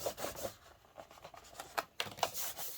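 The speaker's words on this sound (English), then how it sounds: "you're going to press and burnish that down to spread the glue out" Paper card layer being pressed and burnished down over fresh glue by hand, a soft dry rubbing with several short strokes and scuffs, fairly quiet and close, no talk.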